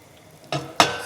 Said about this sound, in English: I'm going to just ladle the chicken into the soup broth and let that, simmer for some more.